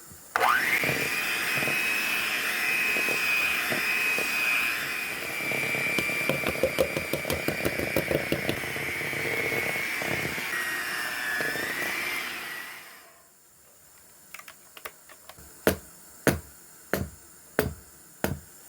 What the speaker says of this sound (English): Add the dry mixture to the wet mixture slowly and beat on low speed until just combined.